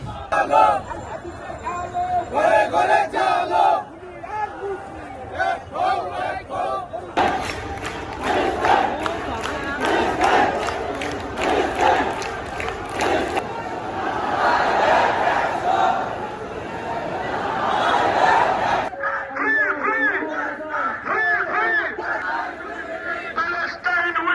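Huge protest crowd at Suhrawardy Udyan in Dhaka chanting "Palestine" in a march for Gaza, rhythmic massed voices rising and falling over a dense roar of people, loud and close with chatter in between.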